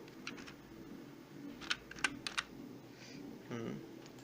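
Keys on a computer keyboard tapped as a name is typed, a few quick close clicks in a short burst, faint and alone against a quiet room hum.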